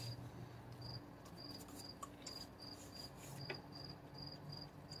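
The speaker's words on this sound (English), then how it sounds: "You hear the crickets." Crickets chirp at night outdoors in short, regular pulses repeating steadily over a soft background hiss, fairly faint and with no voices.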